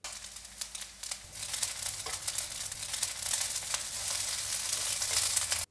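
Yakisoba noodles crackle and sizzle in a hot pan, a steady frying hiss with scattered pops that grows a little louder after the first second.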